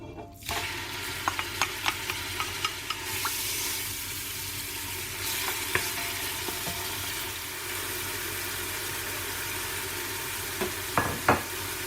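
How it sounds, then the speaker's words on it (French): Onions fry in olive oil in a pot for a Moroccan tagine, giving a loud, continuous crackling sizzle after a sharp start, with light stirring clicks scattered through and clustered near the end. "je vais rajouter dans l'huile d'olive les oignons"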